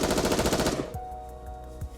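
Rapid machine gunfire from the video game Goddess of Victory: Nikke: a dense, loud burst of rounds for about three quarters of a second, then cut off into fading echoes, a faint ringing tone and a couple of soft thuds.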